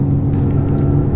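A Renault Mégane 4 RS Trophy-R pulls hard at full throttle on a race circuit, its engine a steady, loud, close drone that holds even across the brief moment.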